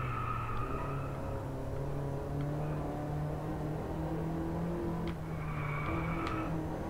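Racing game Drive Club VR on PlayStation VR: a steady car engine drone with shifting pitch runs throughout, with a couple of brief impacts during a crash through a hairpin turn.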